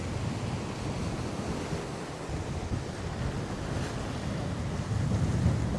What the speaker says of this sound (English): This wind is just absolutely howling.